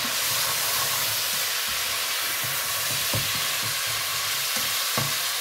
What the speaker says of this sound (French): Une fois que la viande est bien saisie, on met le basilic thaï. On mélange bien.